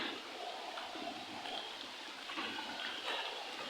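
Waterfall at Canonghan Falls heard as a faint, steady wash of rushing, splashing water with a broad hiss and no clear breaks, somewhat distant and even throughout.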